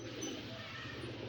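A pigeon pair gives soft cooing calls, faint and brief against a low background hum.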